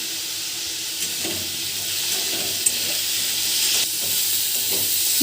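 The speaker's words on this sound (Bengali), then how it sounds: "সর্ষের তেল গরম হয়ে গেছে, বেগুনগুলো ভেজে নিচ্ছি।" Eggplant pieces fry in hot mustard oil, a continuous close sizzle with soft stirring clicks and a few sharp pops, no voices.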